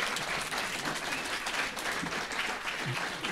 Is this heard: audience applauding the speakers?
yes